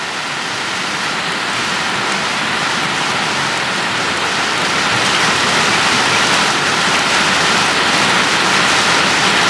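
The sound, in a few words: rainstorm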